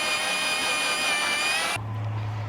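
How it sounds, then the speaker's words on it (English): Cordless drill running while fastening screws into an RV bumper frame for a bike rack, a steady high motor whine that cuts off abruptly, leaving a low hum. "Find yourself a cordless drill. Lock it in, and we'll get these screws fastened and secure the strut."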